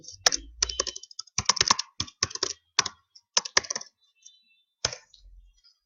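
Login username and password typed on a computer keyboard: bursts of crisp, close key clicks in quick uneven runs with short pauses, ending in a single final press.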